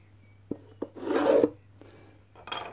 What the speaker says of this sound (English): I'm literally going to draw around the box to give me my